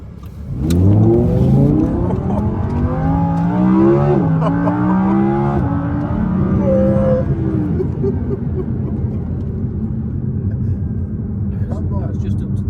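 An Audi R8 V10 supercar accelerates hard with a loud rising engine note that climbs through the gears, then eases off and keeps running steadily. Voices talk over it throughout.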